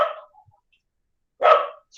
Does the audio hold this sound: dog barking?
yes